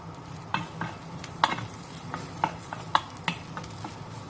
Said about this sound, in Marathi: दोन ते तीन मिनिटं तरी लागतील ह्या मिरच्या चांगल्या ग्रिल करून घेऊया